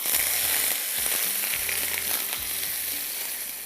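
A loud burst of sizzling and crackling as hot tempering hits degi mutton korma, fading gradually, with a few clinks of a utensil.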